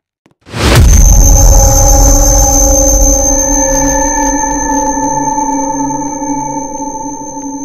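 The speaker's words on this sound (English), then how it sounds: "I think I hear some unearthly cubes." A deep electronic boom from a video game, announcing unearthly cubes, hits suddenly and rings on as a long, loud sonar-like drone with sustained tones slowly fading.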